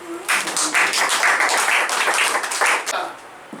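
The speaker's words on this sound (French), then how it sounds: "Mesdames et messieurs, j'aimerais que vous applaudissez pour vous." Applause from an audience of learners in a training session, a dense, steady patter of clapping filling the room at close range and fading toward the end.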